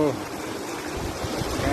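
A mountain stream in Nepal rushes near a tall waterfall, a dense, even wash of flowing water heard up close, with faint traces of a voice at the start and end.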